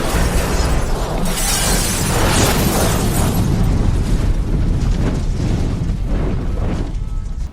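Bomb bracelet detonating in the action film Transporter 3, a loud, sustained roaring blast with crashing and shattering debris that continues for several seconds, with no talk.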